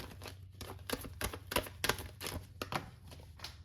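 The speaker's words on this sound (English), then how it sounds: "Let's pull some tarot, shuffle some tarot." Tarot cards being shuffled by hand, a close run of quick papery riffles and taps in irregular bursts, fairly quiet, with no talk.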